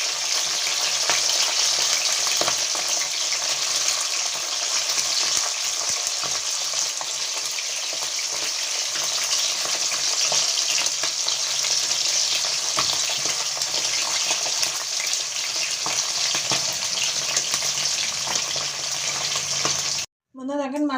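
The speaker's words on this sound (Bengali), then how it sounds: "তাই প্রথমে মাছগুলো ভেজে নেব।" Fish fry in hot oil in a village kitchen, a loud, dense, steady crackling sizzle that runs unbroken for about twenty seconds before cutting off abruptly at the end.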